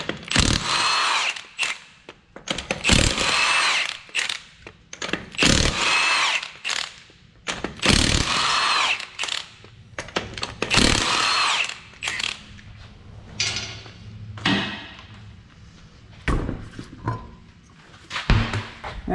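A power impact tool zips lug nuts off the passenger front wheel of a Mazda CX-5, several loud close bursts of whirring and rattling separated by short pauses, ending with lighter clinks.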